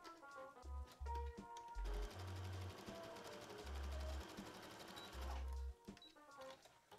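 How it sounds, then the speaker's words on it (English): A sewing machine stitches a swimsuit seam in several short bursts of rapid mechanical whirring separated by brief pauses, close and fairly quiet. "now we can sew these side seams together"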